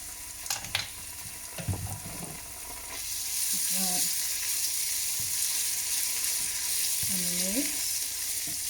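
Crunchy chickpeas frying in a pan with a spoonful of ketchup being stirred in: a steady sizzle that swells louder partway through, with occasional scrapes and clicks from stirring.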